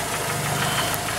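Jeep engine idling and knocking while crawling over rocks on an off-road trail in the woods, a steady close rumble with rough low-end vibration and no talking.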